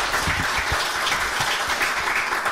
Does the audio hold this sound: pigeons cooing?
no